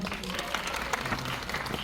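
Applause from a cinema audience greeting the director and cast at a stage appearance, a dense continuous patter of clapping throughout at moderate level with no speech over it.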